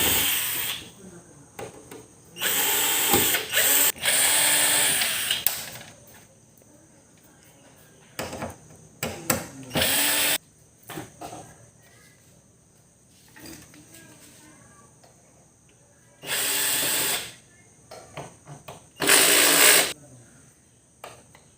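A power screwdriver removes screws from the back panel of a TCL curved smart TV with no power, sounding as several short whirring bursts separated by quiet gaps and handling noise, close up.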